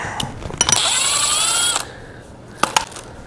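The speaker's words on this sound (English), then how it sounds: "We've got to take this bolt out and replace it with a stud" A ratcheting power tool whirs briefly as a bolt is backed out during a Tremec TKX five-speed transmission install in a Camaro, followed by a few sharp metallic clicks and clanks nearby.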